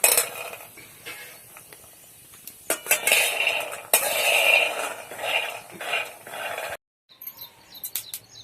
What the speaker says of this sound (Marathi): कढईमध्ये आता शेंगदाणे भाजून घेऊ